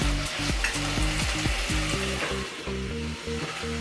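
Small pieces of chicken for red curry fry loudly in a pan, a dense continuous sizzle with bursts of stirring, close up and with no voices.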